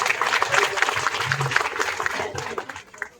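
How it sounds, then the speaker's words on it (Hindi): Audience applause welcoming a senior medical superintendent to the stage at a district hospital gathering, a dense continuous patter of many hands clapping, fairly close, tapering off near the end. "जोरदार ताली स्वागत करें।"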